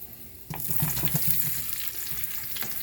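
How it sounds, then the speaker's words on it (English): Onions drop into a hot frying pan for chop suey, setting off a sudden, close, crackling sizzle that keeps hissing steadily after a soft clatter and stirring noise. "Now we're going to add the onions."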